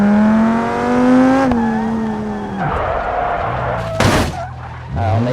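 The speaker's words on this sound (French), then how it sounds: "Alors, on a éclaté la voiture." Car in BeamNG.drive driving at night, engine droning steadily before dropping off, then a sharp, loud crash burst of impact noise followed by scraping, tires squealing faintly.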